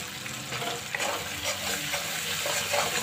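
Spices sizzle and fry in a pan for an Indian-style potato and chickpea curry, a continuous close, fairly quiet crackle with faint stirring.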